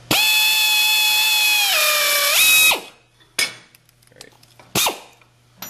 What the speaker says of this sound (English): gonna finish that hole, go through.